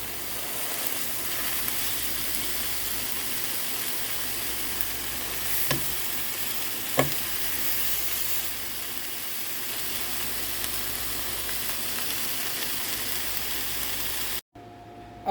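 Steady close sizzle of tomato paste sauce for oxtail stew frying in a pot, with a couple of brief spoon scrapes as it is stirred, ending in a sudden cut.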